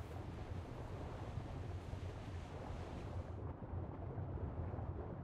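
Ocean surf in the Ark survival game roars as a steady, dense wash of crashing waves and rushing water, loud and unbroken for several seconds, with the highest hiss dropping away partway through.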